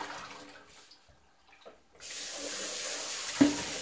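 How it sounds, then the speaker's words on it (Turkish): Mallow and nettle leaves are rinsed under a running tap, a steady splashing stream of water that begins after a quiet stretch, with a short clink near the end. "en güzeli maşayla alıp maşayla yıkamak yani"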